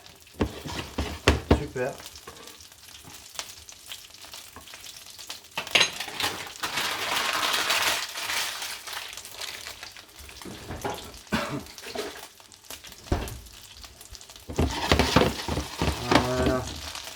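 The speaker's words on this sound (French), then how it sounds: "En plus là j'ai un beurre qui est moussant." Foaming butter sizzles and fries fish in a pan, a steady crackling hiss that swells and fades with occasional stirring, with a brief spoken word over it.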